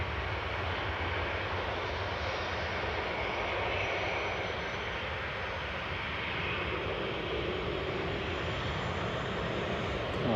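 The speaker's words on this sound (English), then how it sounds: "that must have been a full power Lufthansa there" A Lufthansa jet takes off at full power at Manchester Airport, a broad steady engine roar heard from a distance that stays loud and unbroken for the whole span.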